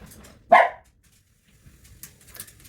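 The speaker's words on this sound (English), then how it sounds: "And the dog's pissed off." A riled-up dog lets out a single sharp, loud bark near the microphone, followed by quiet with faint scattered rustling and distant noises.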